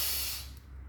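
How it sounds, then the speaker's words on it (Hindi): A single deep breath drawn in during a yoga-style breathing exercise, an airy hiss that is loudest at the start and fades over about a second, close and alone, with no talk. "सांस भरें एक बार फिर से"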